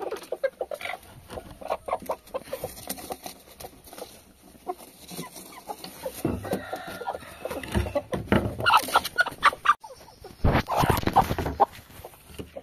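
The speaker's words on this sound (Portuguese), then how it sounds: "As galinhas tá aqui, meu povo, ó." Chickens and a rooster in a henhouse cluck and squawk in irregular bursts, close by, growing louder and more agitated toward the end with flurries of calls.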